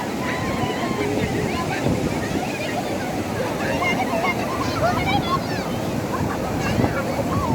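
Ocean waves roll onto the beach at Cox's Bazar in a steady, loud wash of surf mixed with wind buffeting the microphone, while people chatter faintly in the background.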